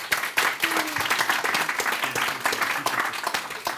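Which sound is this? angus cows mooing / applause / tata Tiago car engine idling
applause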